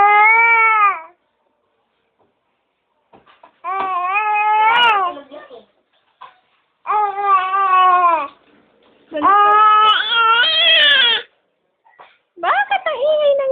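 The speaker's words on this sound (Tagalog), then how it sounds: "Bakit ang ingay ng baby?" A baby cries in a series of loud, close wails separated by short pauses, each cry rising and straining with a harsh edge.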